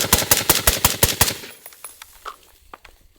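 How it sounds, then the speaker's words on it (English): A suppressed Bushmaster ACR 5.56 rifle fires a rapid string of about nine sharp shots in steady rhythm, followed by fainter echoes and scattered clicks. "ACR on the suppressed mode. Suppressed."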